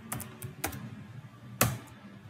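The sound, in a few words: typing the Cisco router command config terminal on a keyboard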